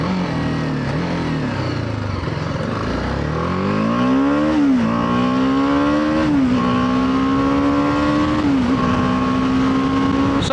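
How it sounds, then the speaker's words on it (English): A BMW G310R motorcycle's engine induction noise rises and falls with the throttle while riding, a loud close rasp climbing through gears with brief dips at each shift, steady wind underneath. "the induction noise is really good"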